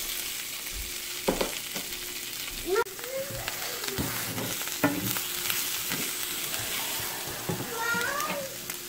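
Food sizzles and crackles in a cast iron pan while butter paneer cooks, with occasional stirring clatter and scraping; a voice or high squeak breaks in briefly now and then.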